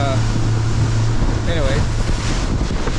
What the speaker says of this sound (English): I'm not sure whether the microphone can pick up this heck of a lot of wind and a heck of a lot of sound.